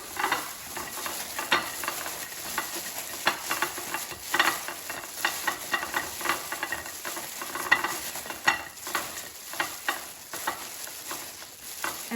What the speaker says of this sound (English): And just kind of roll them around to coat with melted butter.